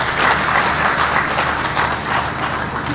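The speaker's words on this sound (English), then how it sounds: "Will you please give the Honorable Minister of Defense another round of applause" Audience applause at an annual army conference with Nigeria's Minister of Defense present, a dense, steady roar of many hands clapping that holds evenly for the full three seconds.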